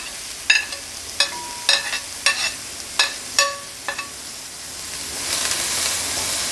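Onions and small shallots sautéing in a pan for Kerala-style duck roast, with a steady close sizzle and a series of sharp spoon clinks and scrapes against the pan as they are stirred.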